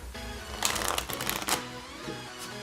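A deck of Bicycle playing cards being handled and riffled, with a burst of rapid shuffling flutters in the middle, close and fairly quiet, with no talk.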